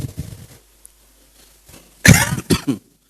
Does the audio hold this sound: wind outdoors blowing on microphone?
no